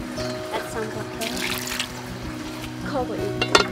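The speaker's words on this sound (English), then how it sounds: "Add some water." Water poured into a pot of river shrimp, a short burst of trickling and splashing liquid, close by, with a faint voice in the background.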